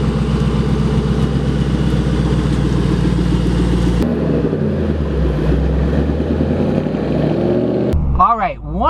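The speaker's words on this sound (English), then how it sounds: "So let's go take it for a test drive." A Ford Mustang fitted with a carbon fiber driveshaft on a test drive, giving a steady, loud engine drone inside the car that shifts in pitch across a few cut segments, with a brief rising whine at the end.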